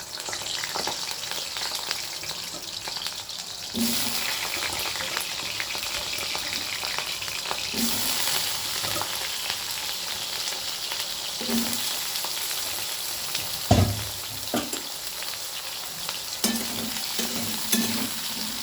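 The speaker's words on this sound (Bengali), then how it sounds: "এবার তেলের মধ্যে আমি দিয়ে দিচ্ছি কেটে রাখা আলুগুলো।" Cut potatoes frying in hot oil for a Bengali fish curry, a steady close sizzle throughout with occasional stirring clatters and brief spatters; no talking.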